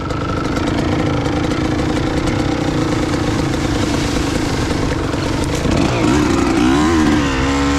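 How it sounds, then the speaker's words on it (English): A two-stroke dirt bike engine idles low on a trail, a loud, close, steady burbling putter that holds even throughout, with a slight rise in pitch near the end. "Man, I love how low this thing idles now."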